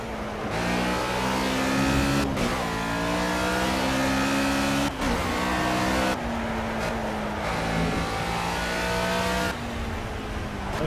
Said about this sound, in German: weil der Motor von dem Wagen hier voll abgeht